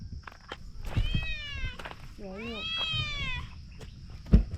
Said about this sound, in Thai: และนี่ครับคือแมวของเราเมื่อคืนนะครับ